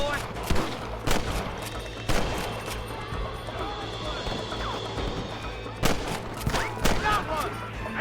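Rapid bursts of gunfire crack through a Red Dead Redemption shootout with cattle rustlers, loud sharp volleys clustered at the start and again near the end, under a steady background and some game voices.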